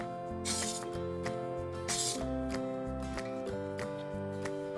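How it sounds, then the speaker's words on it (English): Two short, hissing bursts of spray paint from an aerosol can onto an egg, each about half a second, over steady background music. "And then it's time to spray your egg."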